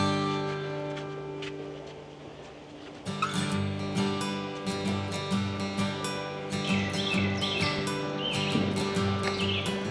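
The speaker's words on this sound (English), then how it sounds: "we just had a couple of red-shouldered hawks cruise right over us" A couple of red-shouldered hawks call as they fly overhead above a wild river, their sharp, repeated cries ringing out fairly close over a steady outdoor background.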